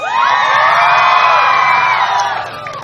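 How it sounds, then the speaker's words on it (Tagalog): A large crowd at a gay beauty pageant cheers and screams loudly in one sustained burst that fades slightly toward the end. "Bakit hindi nyo palakpakan? Hiyawan ang nag-iisang Miss Christine Reyes."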